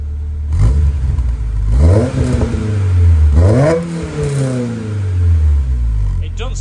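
Honda S2000 with an aftermarket exhaust revving in several loud, rising and falling sweeps, close by and steady throughout, with no talking over it.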